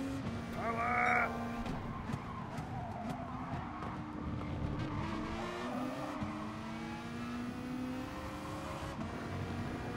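A race car engine at full throttle in GT Sport, a sustained close engine drone with rising and falling revs through gear changes, a brief harsh buzzing burst near the start and faint tyre squeal.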